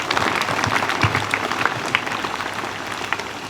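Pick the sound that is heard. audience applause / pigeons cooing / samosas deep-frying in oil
audience applause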